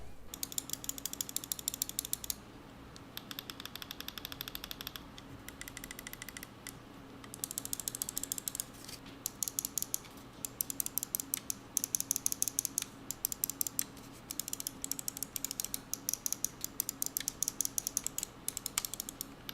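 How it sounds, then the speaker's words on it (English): Mechanical button clicks from an HK Gaming Mira-M gaming mouse, many rapid crisp taps in bursts and steady runs, close and fairly quiet with no talking. "This actually has a pretty solid click and tactile depression actuation on all the buttons on the mice."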